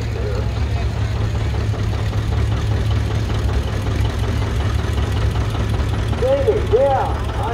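A small John Deere 8 tractor engine runs steadily at a parade on a track, a low continuous chug under outdoor talk from nearby people.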